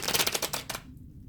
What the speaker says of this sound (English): Spirit is saying shuffle 3 times, cut 3 times, and pull 3 cards